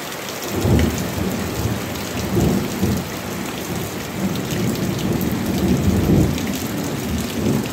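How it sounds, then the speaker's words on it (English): Heavy rain pours steadily with a dense, continuous hiss, and low rumbles of thunder roll underneath throughout. "raining pretty good."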